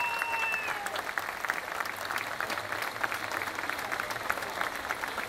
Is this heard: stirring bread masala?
no